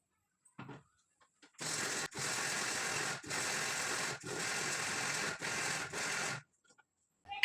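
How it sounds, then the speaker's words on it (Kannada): A kitchen mixer grinder coarsely grinds coconut in several loud, even bursts of whirring, each a second or so long and separated by brief pauses, with quiet near the start and end. "ಅದಕ್ಕೆ ಸ್ವಲ್ಪ ತರಿಯಾಗಿ ಗ್ರೈಂಡ್ ಮಾಡ್ಕೊಂಡು ಬಂದುಬಿಡ್ತೀನಿ ಇದನ್ನು"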